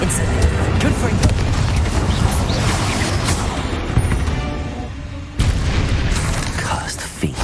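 A Confringo spell explosion in Hogwarts Legacy sounds as a series of loud booming blasts and crashing impacts over a busy rumble, with one sharp hit near the end and talking mixed in.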